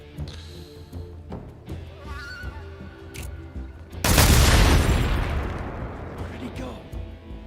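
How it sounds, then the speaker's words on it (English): Explosion in the video game Metal Gear Solid 3: a sudden loud boom that rolls out into a long, fading rumble, after quieter game sounds and a horse whinny. "Did you not hear the explosion?"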